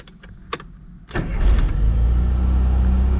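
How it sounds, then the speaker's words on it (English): A carbureted Rover Mini Cooper cranks briefly after a few small clicks and catches, settling into a steady, close idle rumble that carries on alone. "and this thing will fire right up."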